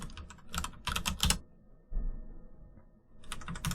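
Rapid keystrokes on a computer keyboard come in quick bursts, pausing for about a second and a half before another clattering burst resumes, close and clear.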